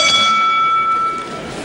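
A bell rings the end of a wrestling round in a hall, one clear metallic strike whose bright tones hang and fade over a background of crowd noise.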